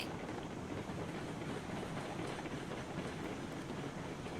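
A train hauls freight cars in the railroad simulation game RailRoads Online, giving a steady, continuous rolling rumble with faint rail clatter, unbroken for several seconds and without speech.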